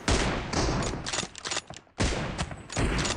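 Loud, close M24 sniper rifle gunshots in the mobile game BGMI during a team deathmatch, with sharp reports and a brief gap before firing resumes.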